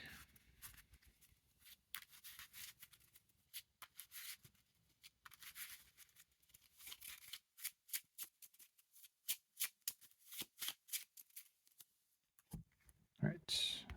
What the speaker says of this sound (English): Shuffle Deja Vu into my deck.